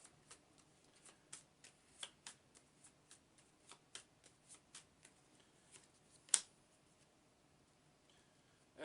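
A deck of game cards from a fantasy tabletop game is shuffled close by in quick, regular riffling bursts, with a sharper snap near the end and no talking.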